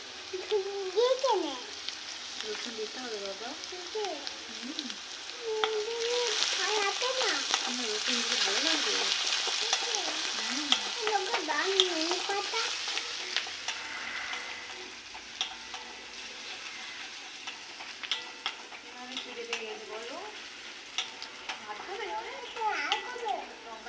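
Garlic fries in a pan with a steady, close sizzle and crackle that runs throughout, with bursts of stirring and voices talking over it.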